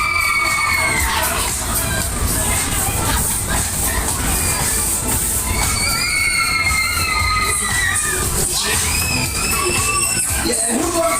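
Riders on a No1 Waltzer fairground ride scream and shout nonstop over loud, pounding ride music and the rumble of the spinning cars, with high shrieks rising and falling throughout.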